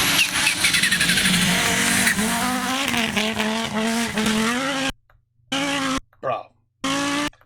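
An Audi Group B rally car roars loudly at full throttle, its engine note climbing and wavering with tire squeal and skidding, then cutting into short broken bursts separated by silence.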